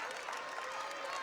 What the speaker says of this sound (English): Huge round of applause from the crowd.